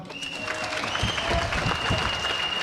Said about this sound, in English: Who can clap for General Mbadi?